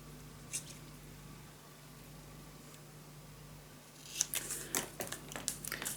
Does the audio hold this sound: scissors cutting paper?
yes